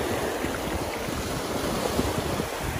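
Sea waves wash onto the beach at Skegness in a constant, rushing roar mixed with heavy wind buffeting the microphone, close and sustained with no voices.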